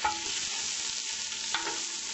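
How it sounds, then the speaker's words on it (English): A wooden spoon stirring onion, celery and carrots in a hot pan, a close sizzling hiss with a few soft scrapes and knocks as the vegetables are moved around, no talking. "I'm gonna stir this around a little bit"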